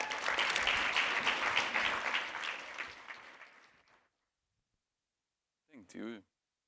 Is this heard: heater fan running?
no